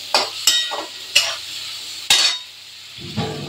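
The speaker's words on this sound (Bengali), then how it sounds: "এই তেলেই আমি হলুদটা দিয়ে দেবো, দিয়ে একটু নাড়ানাড়ি করে জল দেবো" Turmeric frying in hot oil, stirred with a metal spoon against the pan: several sharp clinks and scrapes over a soft sizzle, close and clear with no talk, ending in a brief low rumble.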